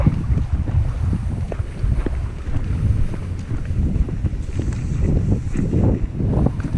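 Engine drone and water wash from a boat running close by, with gusts of wind buffeting the microphone throughout.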